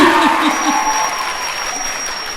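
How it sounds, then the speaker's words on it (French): An audience applauds and cheers at a speech, a loud burst of clapping and voices at the start that gradually tapers off while a faint steady tone lingers. "applaudissez encore plus fort parce que vous êtes là"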